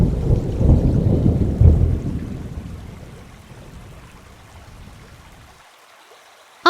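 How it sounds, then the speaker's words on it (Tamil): Heavy rain pours with a deep rolling thunderclap that booms loudly at first and then slowly fades into steady downpour, ending in near silence with no talking. "இந்த மழை நிற்கவே மாட்டேங்குது."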